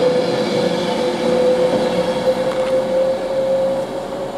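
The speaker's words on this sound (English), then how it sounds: "There goes the Edinburgh train." A Virgin Trains Class 390 departing Birmingham International for Edinburgh Waverley, a steady rolling rumble with a sustained high tonal whine from the train, heard nearby on the platform without speech.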